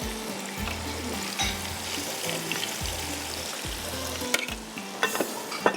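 Onions frying in a pan for a desi saffron porridge dish: a continuous sizzle and crackle with stirring, punctuated by repeated low thumps from spoon or pan, and a few sharp clicks near the end.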